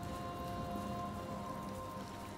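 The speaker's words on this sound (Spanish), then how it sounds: "Me encanta la lluvia, gente." Rain falls steadily in the video game Senua's Saga: Hellblade II, a faint, even hiss of drops pattering on surfaces with a low hum beneath and no voices.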